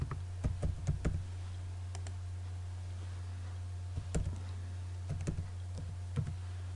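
Keys tapped on a computer keyboard while entering a command in AutoCAD: several short bursts of crisp clicks with pauses between them, over a steady low electrical hum.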